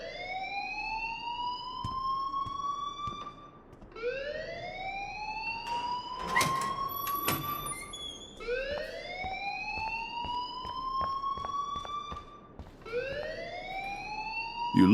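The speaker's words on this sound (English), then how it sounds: "please turn off that alarm since that's your job" An alarm wails in the Life is Strange video game, with a siren-like rising sweep that repeats about every four seconds, steady and moderately loud with some clatter beneath.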